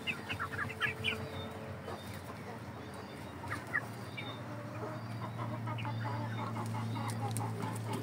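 Chickens clucking and calling in a coop, with short rough coughing bursts from birds with a contagious illness and a steady low hum of fans in the background.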